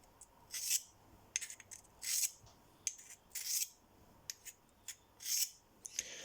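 A pocket knife blade drawn across a rough 320 grit DMT diamond sharpening plate, giving repeated harsh rasping strokes in an uneven rhythm, close and fairly quiet, with no talking.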